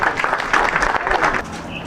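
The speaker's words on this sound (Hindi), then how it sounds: "वो उनके लिए जोरदार ताली बजाएं सभी।" An audience claps for children at a Martyrs' Day evening event, a brief burst of dense, mid-level applause that fades slightly toward the end.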